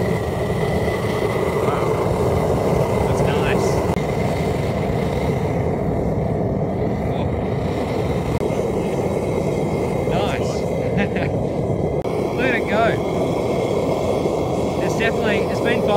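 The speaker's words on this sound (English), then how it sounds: "All right, gas is on and here we go." A gas-fired burner on a high-temperature furnace roars steadily, a loud broad rushing drone that holds constant throughout with faint higher tones and clicks over it.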